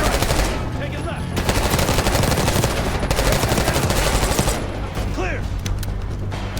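Sustained automatic gunfire from a Call of Duty Black Ops 6 firefight, rapid bursts rattling loudly and almost continuously through the whole stretch, with brief shouted voices mixed into the din.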